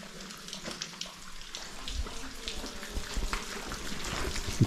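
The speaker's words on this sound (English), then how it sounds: "Okay, dripping water." Water drips inside an old railway tunnel, scattered irregular drops and splashes echoing at moderate loudness over a low hollow ambience, with a louder splash near the end.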